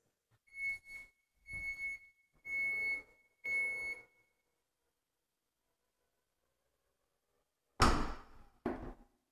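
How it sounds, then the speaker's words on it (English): A 2022 Chrysler Grand Caravan SXT power tailgate gives four evenly spaced warning beeps, then after a pause closes with a loud thud and a short second knock. "It gives you a few beeps to let you know to get out of the way first."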